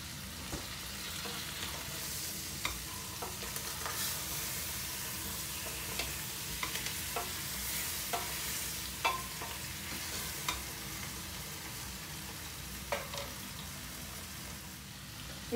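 Chicken browning in a pan for a tomato curry dish, with a steady close sizzle of frying and repeated sharp clinks and scrapes of stirring throughout, no talking.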